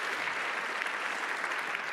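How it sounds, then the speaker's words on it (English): An audience at a sporting forum applauds the conference interpreters with steady, dense clapping that carries evenly throughout, with no voices heard. "A round of applause for the interpreters."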